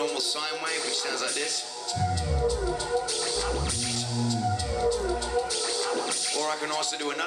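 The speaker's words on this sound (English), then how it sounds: "One is just a normal sine wave," Beatboxed looping set with a plain sine-wave bass made by voice: a deep, smooth hum enters around two seconds in and swells under layered vocal percussion and melody, loud and close, dropping away near the end.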